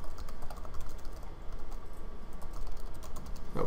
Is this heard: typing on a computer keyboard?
yes